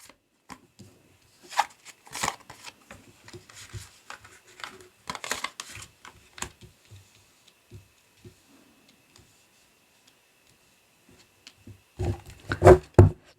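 Tarot cards shuffled and drawn in scattered bursts of soft riffling and flicking, with a louder flurry of card handling at the end; no talking.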